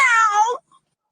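A person's voice imitates a cat's meow: one loud, drawn-out meow lasting about half a second, followed by a tiny faint blip and then silence.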